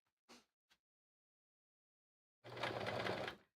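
A sewing machine used for free motion quilting, with the presser foot up, gives two short taps, then after a silent pause a close burst of rapid stitching lasting about a second.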